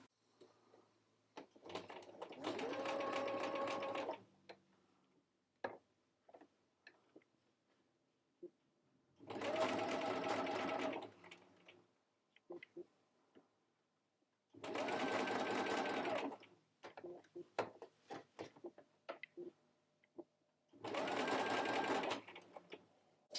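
A domestic sewing machine stitches a tiny hem on a garment in four steady motor bursts of a few seconds each, separated by quiet pauses with small handling clicks; no one speaks.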